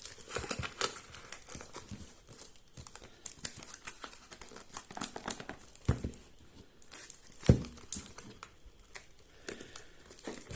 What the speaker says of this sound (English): Serious struggle getting some of these watches unboxed.